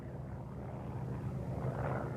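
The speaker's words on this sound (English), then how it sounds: "Piston engine fighters attacked American aircraft." Piston-engine fighter aircraft in flight during the Korean War, a faint, steady low propeller drone that swells slightly toward the end.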